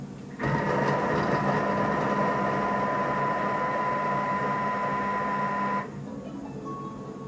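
A Thermomix food processor mixing scone dough starts abruptly and runs with a steady, close motor whine and hum for about five seconds, then cuts off to quiet room noise.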